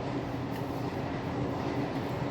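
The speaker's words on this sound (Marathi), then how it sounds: "आमच्याकडे ट्रेनचा आवाज कायम येत राहणार कारण आमचं सोसायटी ट्रेनच्या जवळ आहे।" A train rumbles past steadily and loudly, a continuous roar of wheels and carriages with no voices.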